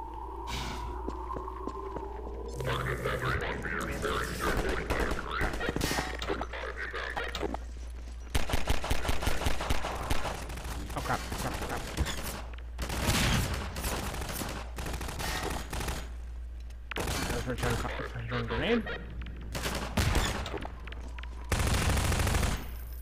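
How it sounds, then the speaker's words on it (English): Pulse rifle fire in Half-Life 2 comes as several bursts of rapid automatic shots, some long and some short, over a steady low hum, with quieter game sounds between the volleys. "I could just return the pulse rifle fire."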